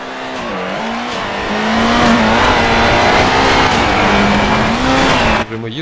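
A Peugeot rally car in the DiRT video game revs hard and loud throughout, its engine pitch climbing and dipping as it drives, with tire noise underneath and an abrupt drop at the very end.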